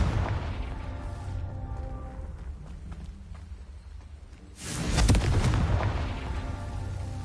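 Confringo fire spell from the Hogwarts Legacy video game, first a low rumbling blast that fades, then a second louder booming burst with a crackling roar, both dense and sustained.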